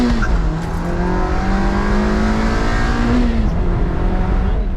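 A tuned Mazda Miata on a test drive holds a loud, steady engine drone with rising and falling revs, recorded up close, and short squeal-like tones over the engine.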